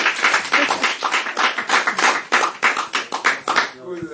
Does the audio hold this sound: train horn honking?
no